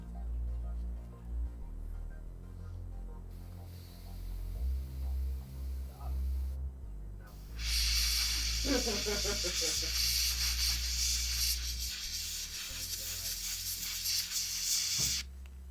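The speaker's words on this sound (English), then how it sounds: "Airbrushing is fun" A hobby airbrush sprays paint onto miniatures in a home painting session, a steady bright hiss that starts partway through and runs continuously, with low hum and occasional quiet talk around it.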